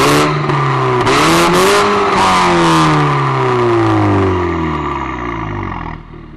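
A modified Audi TT with a 2.2-litre engine of nearly 300 hp pulls away. The engine revs loud and close, rising through the gears, then fades as the car moves off.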